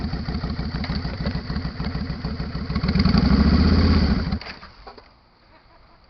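A motorcycle engine on a beginner's first ride chugs and revs louder, then stalls and cuts out near the end, running close and loud before dropping to near quiet.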